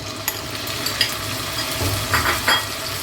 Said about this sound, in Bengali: এই তেলের মাঝে আমি দিয়ে দিব ম্যারিনেট করে রাখা আমার চিকেনটা দিয়ে আমি কিছুক্ষণ ভেজে নেব